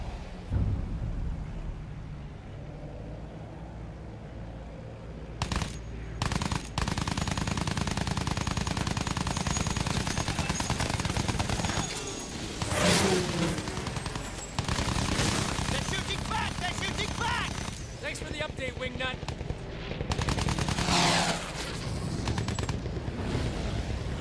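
Machine gun fire aimed at German aircraft in the Battlefield 1 video game, with long sustained bursts of rapid rattling shots and loud explosive booms filling the scene, shouted voices occasionally breaking through the din.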